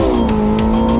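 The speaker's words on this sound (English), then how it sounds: "The Nordschleife trembled under the sound of the 918 Spider." A Porsche 918 Spider hybrid with a 4.6-liter V8 and two electric motors on the Nordschleife, a loud close engine roar holding a steady high tone with brief gear-like surges, alone.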